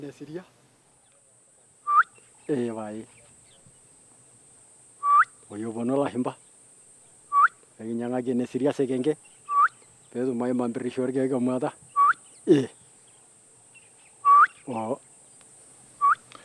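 Torobo hunter-gatherers call out to a honeyguide bird by imitating its call with their voices. Short, sharp whistles alternate with brief trilling, warbling vocal bursts, spaced out by silences in a quiet outdoor setting.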